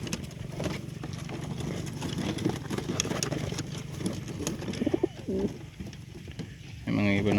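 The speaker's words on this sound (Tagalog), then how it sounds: "Yung mga ibon natin," Racing pigeons released outdoors for a training flight, with a steady rustle of birds, wing flutter and soft cooing over a constant low engine rumble, plus a brief louder burst of activity near the end.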